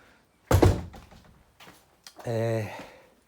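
A car wash door is opened with a single solid thunk, followed by quieter shuffling and a short, tonal voice-like sound toward the end.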